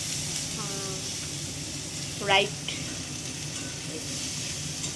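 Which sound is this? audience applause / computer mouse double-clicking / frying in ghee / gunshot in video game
frying in ghee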